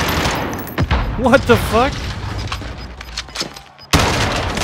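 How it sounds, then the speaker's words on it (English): Rapid bursts of gunfire fired at a dummy in a window in Call of Duty: Modern Warfare hit hard in a few close clusters, followed by a louder blast near the end; someone briefly speaks. "I was shooting at a dummy in a window."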